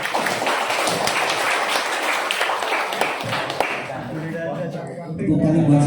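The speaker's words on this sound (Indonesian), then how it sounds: "Tepuk tangan buat pemateri." A crowd claps steadily for several seconds; the applause thins out toward the end as a voice and tonal sounds come in.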